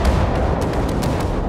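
Naval gunfire from warships in the video game World of Warships, a dense rumbling barrage of booms over a continuous low roar, loud and sustained through the short moment with no talk.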